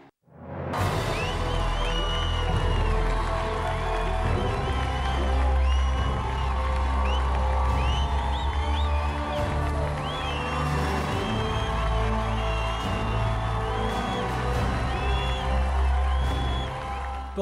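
A huge roadside crowd on the La Redoute climb cheers a passing cyclist, loud and sustained, with whoops and shouts rising over a dense roar for the whole stretch.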